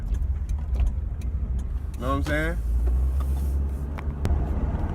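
A car engine runs steadily at idle as a low, constant rumble beneath a voice, with a short rising whine partway through.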